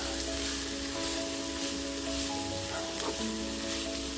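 Cabbage with onions and green chillies frying in a pan gives off a constant, even sizzle with a low steady hum, moderately quiet and close, with no voices.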